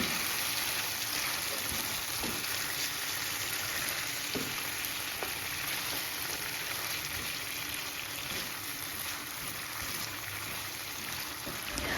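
Chicken in a reduced spiced sauce being stirred in a pan, a steady soft bubbling sizzle with faint scraping taps from the utensil, continuous and moderately quiet.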